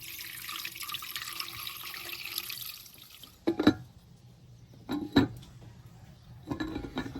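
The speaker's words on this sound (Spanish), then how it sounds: "vamos a llenarlo con agua, hasta que cubra un poco más como un par de dedos más de agua que la carne" Tap water runs steadily into a pot holding meat for an 18th-century style hazelnut meat soup, then stops, followed by a few sharp metallic clanks of the pot nearby.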